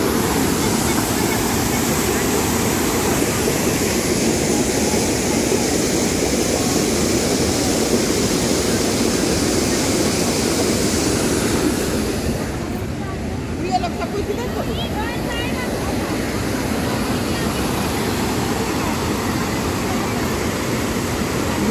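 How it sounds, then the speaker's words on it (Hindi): Dhuadhar waterfall in Jabalpur, water pouring over marble rocks, a constant dense roar of falling water that stays loud and steady throughout, close to the falls. "वहाँ से पानी आते हुए यहाँ पे ये नीचे गिरता है जो एक वाटरफॉल का रूप लेता है।"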